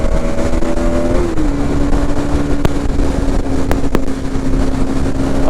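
A Bajaj Pulsar NS200 BS7 motorcycle engine drones steadily and loudly nearby, with a pitch shift early on and a few sharp clicks.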